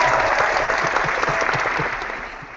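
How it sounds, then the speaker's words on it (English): A round of applause, steady clapping from a group that holds for a couple of seconds and then slowly tapers off. "I think that deserves a round of applause."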